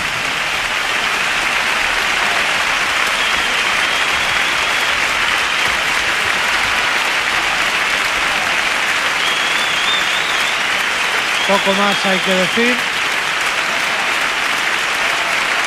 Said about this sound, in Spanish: Parte del teatro en pie, aplaudiendo esta letra de la chirigota de Quique Remolino